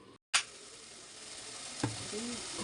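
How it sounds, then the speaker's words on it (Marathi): Spices sautéing in hot oil in a pressure cooker burst into a loud sizzle after a brief silence, then hiss steadily with a stirring scrape midway, close and alone. "एक मिनटापर्यंत आपण मसाले चांगले परतून घेऊया तेलामध्ये"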